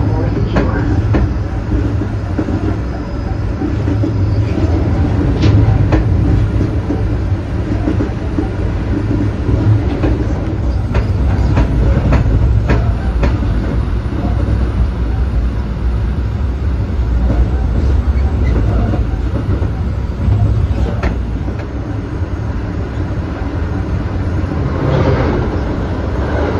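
A Metra BNSF commuter train rides the rails, heard from on board as a loud, steady rumble with rhythmic clicks and rattles of the cars running continuously; voices are faintly present in places.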